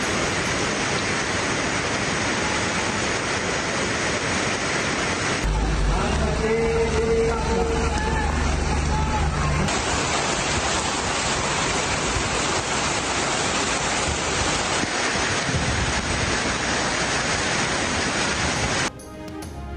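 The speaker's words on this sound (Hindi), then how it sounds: "मरी में तेज़ हवाओं के साथ मूसलाधार बारिश।" Torrential rain with strong winds in Murree, a dense, steady roaring wash of rain and wind that fills the clip, briefly interrupted by a quieter segment, with a voice speaking over it.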